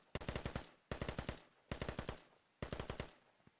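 Four sustained bursts of automatic gunfire in the military shooter game Squad, each a rapid string of sharp reports lasting about half a second, separated by brief pauses, fairly close and loud with no voices.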